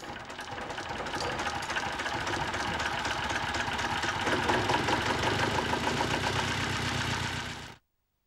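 Small diesel engine running steadily after a hand start, a loud, even, rattling chug that holds for several seconds and then cuts off abruptly.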